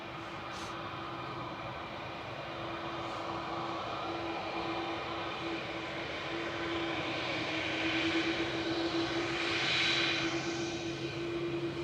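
A jet airliner departs Manchester Airport bound for Melbourne, Florida, heard as a faint, distant, steady engine drone with a thin whine that swells slightly toward the end.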